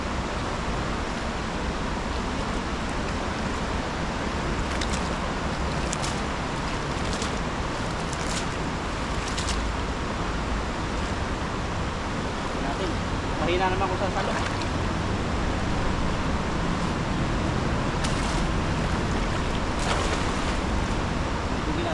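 A strong river flood current rushes in a continuous broadband roar, loud and close, with occasional gusty bumps and a brief faint voice partway through.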